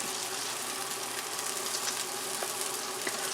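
Meatballs fry in a pan with a steady, even sizzle, cooked until a brown crust forms on them, a continuous close hiss with faint crackles and no voices.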